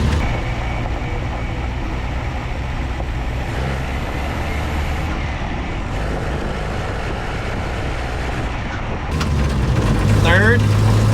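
A Datsun 520 truck drives down a driveway, its engine and road rumble steady and close, rising louder near the end, with a voice heard over it.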